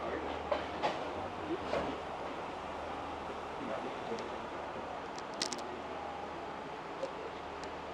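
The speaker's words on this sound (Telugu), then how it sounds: "ఈ స్టేషన్ దగ్గర ఆగింది ట్రైన్ అయితే" A train on the Kandy to Colombo line in Sri Lanka stopping at a station: a faint, steady low rumble with scattered light clicks and knocks, heard from nearby.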